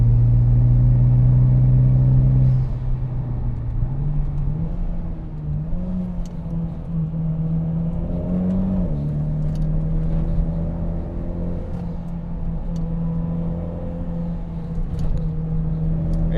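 Mitsubishi Evo X on HKS coilovers driving in sport mode, an engine drone that drops as it shifts gears, then holds a steady cruising hum with pitch rising and falling, heard from inside the car.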